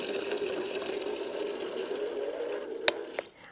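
Liquid pours steadily into a solar fountain's water, a continuous close trickle that ends with a couple of sharp clinks.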